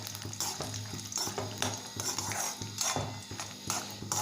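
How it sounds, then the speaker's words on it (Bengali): Peanuts and dried red chillies frying in a little oil in a wok, a close crackling sizzle with rhythmic stirring scrapes and light clinks of a utensil against the metal. "কড়াইতে সামান্য তেল দিয়ে আমি খানিকটা বাদাম আর শুকনো লঙ্কা ভেজে নিচ্ছি।"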